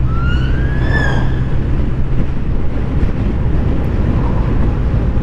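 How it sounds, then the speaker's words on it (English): An ambulance siren wails briefly with a rising-falling tone over loud, steady road and engine noise heard from a motorcycle, then fades into the traffic rumble. "let the ambulance go past."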